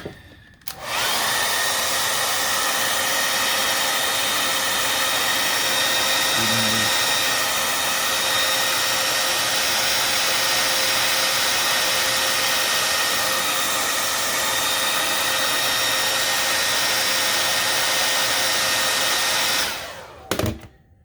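A heat gun blows hot air onto the headlight of a 2011 Toyota RAV4 to soften it and free the tabs, a loud steady whooshing roar running almost twenty seconds before cutting off.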